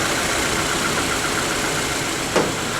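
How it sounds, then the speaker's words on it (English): A 2021 Subaru Crosstrek's 152-horsepower 2-liter four-cylinder engine idles under an open hood, a steady broad hum heard close with one brief click near the end. "is a 152 horsepower, 2-liter, 4-cylinder engine"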